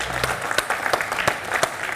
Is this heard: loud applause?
yes